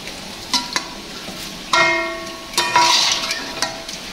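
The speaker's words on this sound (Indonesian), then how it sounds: "ini aku lanjut ya goreng ikan lele" Catfish frying in a pan gives off bright, close sizzling bursts that swell and fade at irregular intervals, with faint clinks of stirring between them and no talking.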